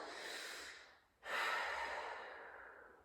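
Deep breaths during a mat Pilates exercise, a long airy exhale that fades, a brief pause, then a sharp, strong inhale tapering off, close and fairly quiet.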